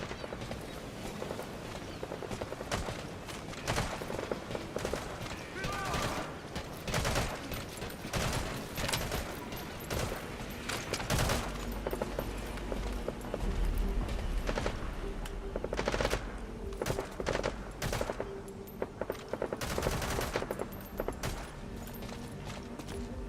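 Unsuppressed gunfire in Metal Gear Solid, loud automatic bursts and single shots cracking repeatedly throughout, dense and close, with heavy low rumble and no voices over it.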